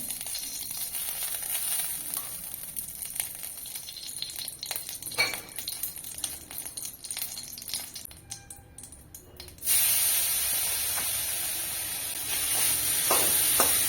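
Coconut and jaggery mixture cooking in ghee in a wok over low heat, a close steady sizzle and hiss with scraping and stirring strokes, growing louder and more spray-like near the end.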